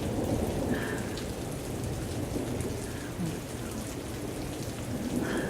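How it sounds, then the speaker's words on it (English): Steady heavy rain pours down during a thunderstorm, with low rumbling thunder underneath and occasional brief tones, continuous and fairly close, no speech. "Thunderstorms, tornadoes."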